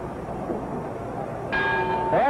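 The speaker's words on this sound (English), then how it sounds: "There's the bell, Serena." A boxing ring bell rings out once to end round seven of a Sugar Ray Robinson versus Gene Fullmer bout, a bright sustained clang cutting in over crowd and commentary noise.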